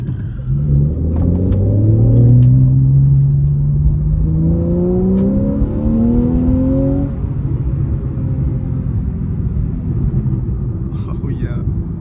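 A 2014 Porsche 911 S (991) engine rising in pitch as it accelerates, then dropping back with a downshift, heard loud and close from inside the car, followed by a steady lower drone.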